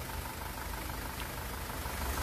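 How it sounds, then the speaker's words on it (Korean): A 2018 SsangYong Rexton Sports 2.2-litre diesel engine idling after a rebuild with bored cylinders, a smooth, even, continuous hum and light clatter heard close up and alone. "마저 엔진 소리 들으면서 마무리 짓겠습니다."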